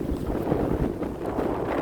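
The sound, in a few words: strong gusting wind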